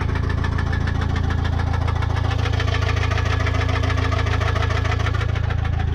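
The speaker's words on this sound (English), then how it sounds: "Yeah, she's barely idling right now." A Suzuki DR350 motorcycle engine idles roughly and unevenly, a low steady chugging throb that sounds close and strained, with no voices.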